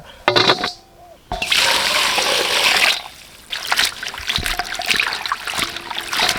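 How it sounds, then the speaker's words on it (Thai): Vegetables are rinsed in a basin of water in an outdoor forest kitchen, with loud splashing and sloshing bursts alternating with quieter trickles and a few clinks of handling. "ตอนวนี้เราก็จะล้างผักไว้ก่อนนะครับครับ"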